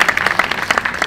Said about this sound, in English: Round of applause, Christian.